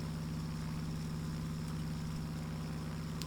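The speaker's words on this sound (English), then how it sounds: "Rotary engines really do sound nice in these aircraft" A steady, droning rotary engine idle of a Douglas A-1H Skyraider in Microsoft Flight Simulator, with a low, even hum that holds constant throughout, no voices present.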